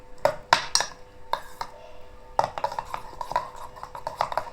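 A spoon stirs ridge gourd chutney, giving a run of close, sharp clinks and scrapes against the bowl in uneven bursts, busier toward the end.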